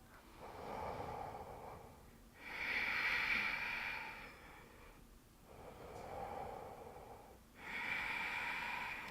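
Slow, deep breaths during a basics yoga stretch: four long alternating inhales and exhales, soft and close, with quiet pauses between them.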